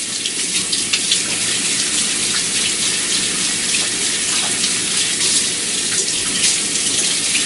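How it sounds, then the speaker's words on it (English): Hands being washed under a running kitchen tap after tossing sweet potato fries in a spice mixture, a steady close rush of water splashing throughout with no talk. "So now I'm going to wash my hands."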